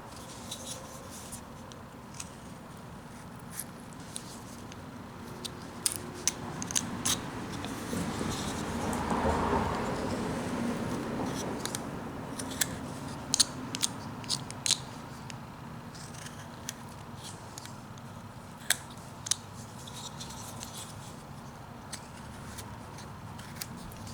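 Scissors cutting up the middle of the legs of a roughout, a series of small crisp snips at irregular intervals over a steady room hiss, close and quiet with no talk.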